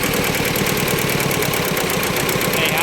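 A Hinomoto E15 tractor, an old Japanese-built machine, idles steadily up close with a loud, even, pulsing diesel knock and no talking over it.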